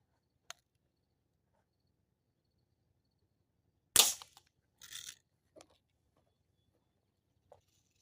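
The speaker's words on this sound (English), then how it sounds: "I'm going to do one shot with each 5 pumps, and then one shot with each 10 pumps." Two BB rifles, a Ruger NXG and a Sportsman 900, each fired once after five pumps, give a sharp crack near four seconds followed by a second softer pop about a second later, with small clicks around them in a quiet room.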